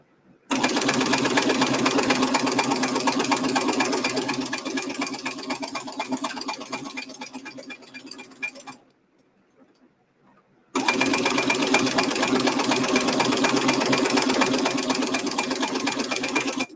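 A sewing machine stitches a quilted fabric tote in two long, steady runs of rapid mechanical whirring, close and loud, separated by a brief quiet pause.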